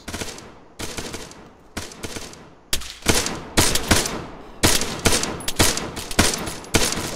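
Rapid gunfire in the video game ArmA 3, loud and close, with bursts and single shots cracking in an irregular rhythm and growing denser toward the end, no voices.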